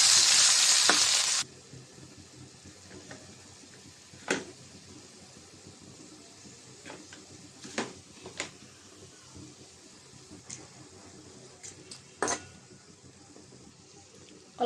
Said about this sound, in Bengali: পেঁয়াজটা ভেজে নেব, পেঁয়াজ আর রসুন দিয়ে দিলাম